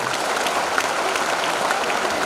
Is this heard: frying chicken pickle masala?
no